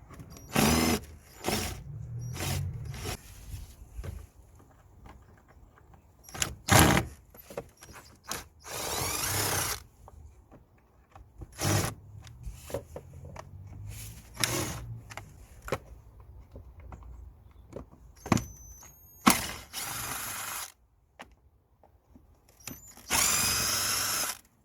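A cordless driver backs Phillips screws out of the air filter cover on a 2007 VW Touran 1.9 TDI, giving several short whirring bursts separated by quiet handling noises and clicks.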